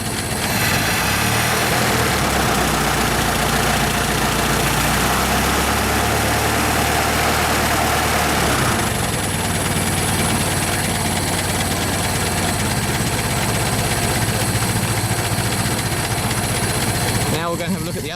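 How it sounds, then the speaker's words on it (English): A Ford Model T engine idling and running steadily with the spark retarded, loud and close, with a rough chugging rhythm that shifts partway through. "the engine should be quite happy to run with the spark retarded"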